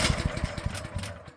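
A Champion dual fuel generator engine cranks on its electric starter at half choke, giving a short burst of rapid, rhythmic chugging pulses at moderate loudness with no voices.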